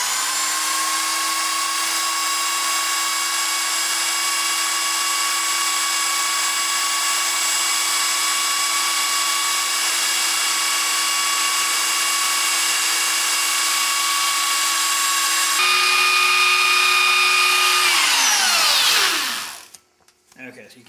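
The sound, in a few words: power tool sharpening a katana blade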